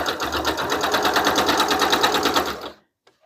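A sewing machine runs a basting stitch across cotton gauze, a fast, even, pulsing chatter heard close and loud for a few seconds before cutting off into near silence.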